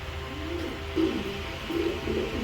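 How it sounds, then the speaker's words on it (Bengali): A pair of razor pigeons cooing nearby, a few soft throaty coos rising and falling in short phrases over a quiet indoor background. "হাই কোয়ালিটির এক পেয়ার কবুতর দিলাম"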